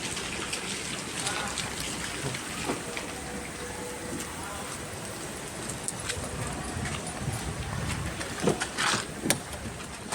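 Heavy rain falls steadily throughout, a dense constant patter with a few louder splashes and knocks near the end, while indistinct voices sit under the downpour.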